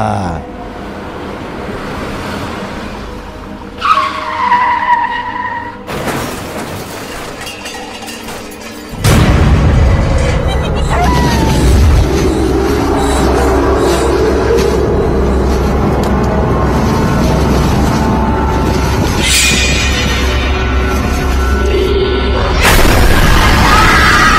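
Sound effect of a truck skidding and crashing into a motorbike: a screeching skid, then sudden heavy impacts, and a loud, sustained rumbling roar of wreckage close up.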